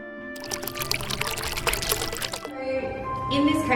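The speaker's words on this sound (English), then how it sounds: "So now that we've popped the seed in, should we go and put a little bit of water?" Water pours from a small container onto a seed just planted in a pot of soil, a close trickling stream that runs for a few seconds while people talk over it.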